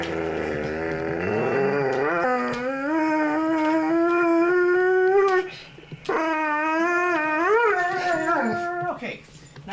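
A dog howls in long, wavering, tonal cries that rise and fall, with a short break midway before the howling resumes, loud and close in the foreground.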